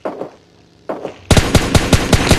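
PUBG Lite gunfire: a couple of single shots, then a rapid, loud burst of automatic fire with evenly spaced sharp cracks, close and dominant.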